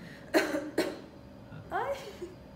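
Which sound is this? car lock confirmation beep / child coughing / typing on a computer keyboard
child coughing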